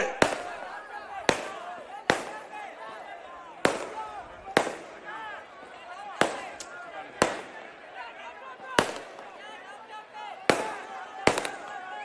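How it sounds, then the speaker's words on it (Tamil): Sharp firecracker bangs burst out at irregular intervals, about a dozen loud cracks over a steady murmur of crowd and voices at a political rally in Ariyalur district, Tamil Nadu. "எதுக்குப்பா பட்டாசு வைக்கிறீங்கப்பா"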